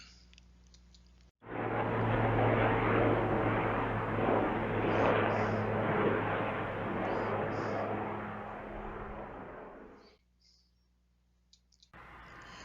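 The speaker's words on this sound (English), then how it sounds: "Flat Randy could tell from the sounds that he was at the airport getting ready to be loaded onto a jet that would take him and the other mail to Michigan" A jet aircraft at an airport roars into life abruptly after a quiet moment, holding a loud, steady rushing thunder with a low hum beneath for several seconds before cutting off sharply.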